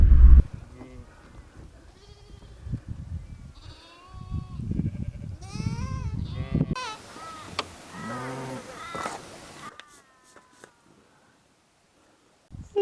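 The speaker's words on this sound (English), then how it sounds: "this is where all their sheep are." Sheep bleat at a hillside farm, several wavering calls from different animals over about ten seconds, fairly close, with a brief rustle and then quiet at the end.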